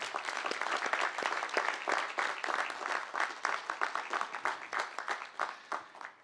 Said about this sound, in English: Please once again join me in a round of applause.